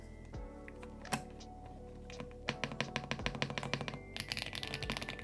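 Keys on a mechanical computer keyboard under repair clack in a few scattered taps, then in a quick, steady burst of close, crisp typing with no talking.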